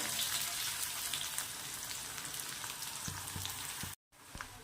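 Chopped onion sautéing in oil in a pan for Maharashtrian dal kanda, a steady close sizzle with scattered crackles, cutting out briefly near the end.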